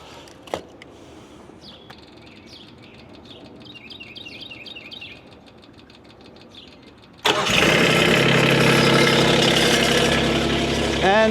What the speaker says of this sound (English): start the splitter, let it warm up.